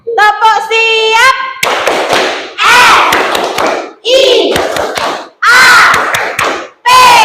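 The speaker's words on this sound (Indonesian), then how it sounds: "Kita tepuk siap dulu biar anak-anak semangat ya" Children in a Grade 5 classroom perform the tepuk siap clapping chant, loud and close, with rhythmic hand claps mixed into shouted chanting voices.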